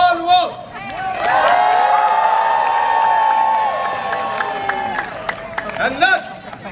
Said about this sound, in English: Let us hear you cheer for Baron Helmut von Wolf.